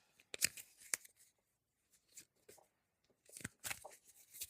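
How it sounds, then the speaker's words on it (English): A few quick bursts of card shuffling, riffles and taps in short clusters with pauses between, close and fairly quiet. "I'll just shuffle"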